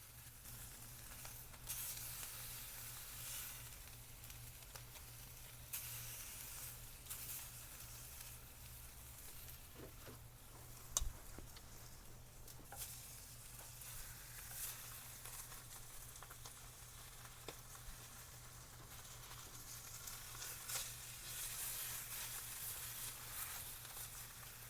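Sous vide New York strip steaks sear on a soapstone grill heated to about 800 degrees, giving a faint, steady sizzling hiss with a low constant hum and occasional small pops.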